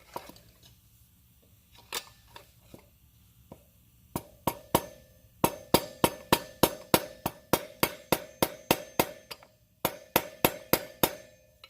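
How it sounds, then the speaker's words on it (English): Dirt bike wheel bearings are tapped out with a hammer: a few scattered knocks at first, then a rapid, regular series of sharp metallic taps, close and loud, with a short break near the end. "Just tap the bearings out."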